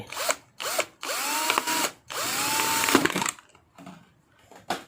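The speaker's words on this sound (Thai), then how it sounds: "ผมจะทำการ เจาะรูตรงนี้นะครับ ที่ขวดนะครับ เจาะลงไปเลย" A power drill whirs in several short bursts, spinning up and grinding into a hollow plastic bottle, with brief pauses between runs.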